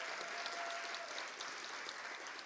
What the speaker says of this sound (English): Let's give them recognition and applause.